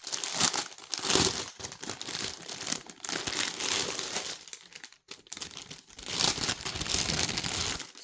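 Plastic packaging around a cross-stitch cushion cover kit crinkles and tears as it is pulled open, with close, loud bursts of crumpling in two main stretches and a short pause between them.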